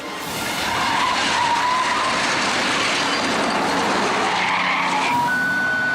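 On a highway, a Mustang slams into an empty van at nearly 70 mph: a sustained, loud grinding and scraping roar of crumpling and skidding metal that lasts several seconds, ending with a thin high squeal.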